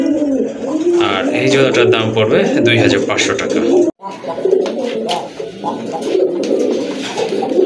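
A pair of crested pigeons coos repeatedly in low, rolling calls, close and fairly loud, while someone talks over them.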